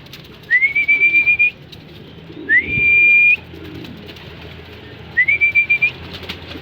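Pet pigeons at a loft give three clear, drawn-out whistling coos that are near and loud, with soft movement noises in the short gaps between calls.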